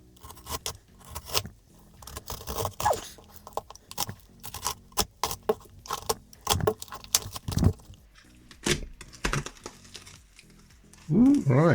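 Cutting open the lid of a box of old pennies, with close scraping, cracking and crunching of cardboard in irregular bursts, a jangle of coins moved near the end.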